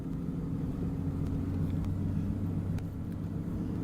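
A 1991 Ford Explorer cruising on a highway, a steady low engine and road rumble heard from inside the cabin, with no talk.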